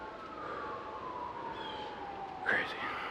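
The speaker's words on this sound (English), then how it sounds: "you hear the sirens in the background." Sirens wail faintly in the distance across Central Park, a thin sweeping tone drifting under soft outdoor background noise, with a brief closer rustle near the end.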